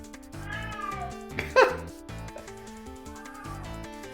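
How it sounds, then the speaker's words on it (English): A cat meows over a steady background tone, giving a few drawn-out, melodic calls with one brief, sharper and louder meow in the middle, heard close by. "Cat is literally saying hello."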